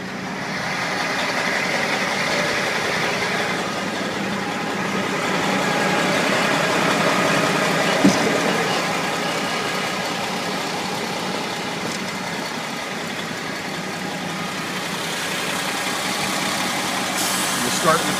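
A 2005 International Eagle 9900i truck engine idles steadily throughout, a continuous low mechanical drone at moderate distance with a brief knock near the middle and another near the end.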